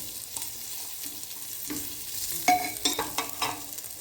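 Roasted green chickpeas are sautéed and mixed in a pan for rice, a low frying sizzle with repeated close spatula scrapes and clinks, growing busier in the second half.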